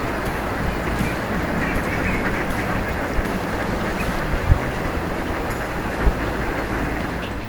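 A large flock of mallard ducks feeding on standing rice makes a dense, continuous wash of quacking and calling, steady and unbroken with a few sharper notes poking out.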